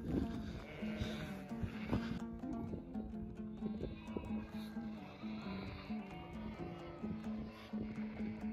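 A flock of sheep and young lambs being herded on the move bleats repeatedly, overlapping calls near and far over a steady low rumble, with some indistinct human voices.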